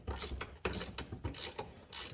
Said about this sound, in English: just using an 18mm ratcheting wrench to get these things